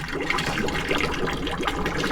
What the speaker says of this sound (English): This is what I do with the oil. I drain it into here.